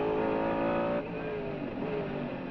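Onboard engine note of a Mercedes CLR race car at Le Mans in 1999, a loud, steady high-revving roar with a quick drop in revs partway through as it shifts, harmonics sweeping under the strain.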